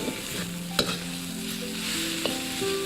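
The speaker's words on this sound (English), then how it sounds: "And we're going to carefully stir those in. Sort of with a folding motion." Fried rice sizzles steadily in a hot pan as beaten eggs are folded in, a continuous close frying hiss with one or two light scrapes of the utensil.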